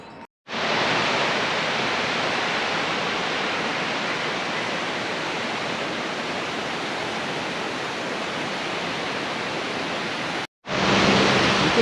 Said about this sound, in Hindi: उधर मेरे पीछे वाटरफॉल है, कितना लंबा, ऊपर से स्टार्ट हो रहा है और नीचे तक आ रहा है वाटरफॉल।